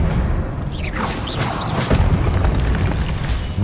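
Expelliarmus spell impact in Hogwarts Legacy: a loud booming blast with whooshing streaks, sustained over a dense game soundscape for a few seconds.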